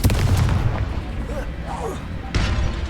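Explosive Confrigo spell blasts from Hogwarts Legacy, a loud booming burst at the start and another near the end, with a player's voice calling out spells over the game audio.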